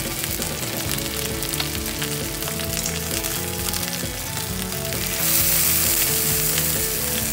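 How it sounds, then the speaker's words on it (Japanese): Beef sears in a hot pan with a loud, continuous sizzle and crackle, the cut faces being browned during wagyu prosciutto preparation, and the frying grows briefly more intense near the end. "切り口も焼きます。"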